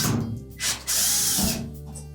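A power driver backs out number 2 Phillips screws from the top panel of a Frigidaire washer, short whirring bursts with brief pauses between, close and alone.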